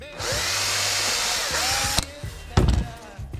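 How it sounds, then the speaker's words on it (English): A small power drill bores all the way through a handmade fishing lure body, a steady high whine for about two seconds, then it stops, followed by clunks and handling noises. "then I'll drill all the way through."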